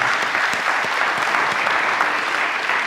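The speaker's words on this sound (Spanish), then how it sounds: "Denle un aplauso al Señor" A church congregation claps together in sustained, dense applause, a steady wash of hands filling the space with no speech over it.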